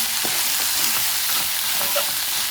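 Fried onions and corn being stirred in a pan with salt and red chilli, a steady sizzle with light scraping of the spoon throughout, close and continuous.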